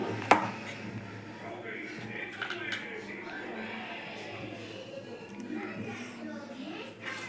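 Cooked brinjal, cleaned of its charred skin, is mashed in a pot, giving soft squishing and scraping strokes with one sharp tap near the start, under a steady low background hum.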